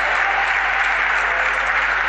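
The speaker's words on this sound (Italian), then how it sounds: "Incitato dagli applausi del pubblico cecinese." A home crowd at an Italian basketball league game in Cecina applauds steadily and loudly, sustained clapping with no voices on top.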